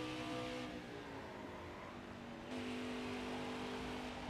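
Race car engine in the NASCAR Heat 4 video game during qualifying laps, a steady, fairly quiet high-revving drone that shifts pitch midway as the car accelerates, with no talk.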